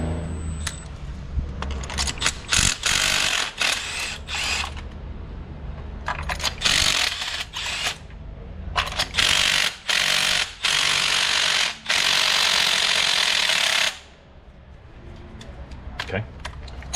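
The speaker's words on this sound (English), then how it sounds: "impact wrench." A brand-new subcompact impact wrench hammers loudly in repeated bursts on a Hyundai Sonata, with several short rattling rattles followed by a long sustained run that abruptly stops, leaving quieter shop noise behind.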